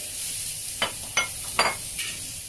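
Onion and pork belly stir-fried in a wok, a soft continuous sizzle broken by four quick scraping tosses of the spatula, close up with no voices.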